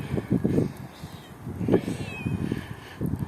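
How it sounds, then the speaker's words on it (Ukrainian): A trimmed cat trapped on an island meows a few times, short plaintive calls heard close amid rustling and someone talking to it. "Що ти м'явкаєш?"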